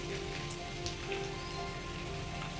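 Heavy monsoon rain pours down steadily at a home, a dense, unbroken hiss of drops hitting surfaces with no one speaking.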